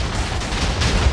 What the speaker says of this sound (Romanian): Wow, deci încă explodează, uitați-vă și câte.